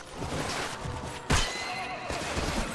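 A horse neighs loudly in the Mount & Blade Floris video game, one sharp whinny amid hoofbeats and battle noise, with no talk over it.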